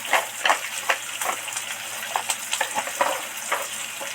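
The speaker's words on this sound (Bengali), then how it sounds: "ভাজা ভাজা হয়ে গেছে" Crab frying in a pan with coriander and chili powder, a continuous loud sizzle broken by regular stirring scrapes and clatters, nearby and without speech.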